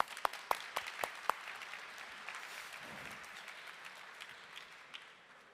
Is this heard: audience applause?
yes